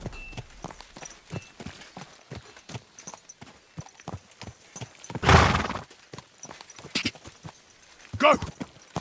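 In the video game Kingdom Come: Deliverance 2, a horse's hooves beat in a steady, close clip-clop, broken by a loud neigh midway and another whinny near the end, with some voice sounds mixed in.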